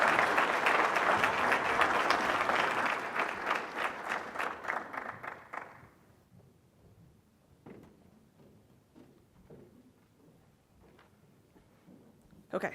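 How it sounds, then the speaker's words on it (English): Conference audience at a sustainability summit applauds panelists with loud, dense clapping for about six seconds, then it fades out and scattered voices and stage noise follow. "let's give our panelists one round of applause"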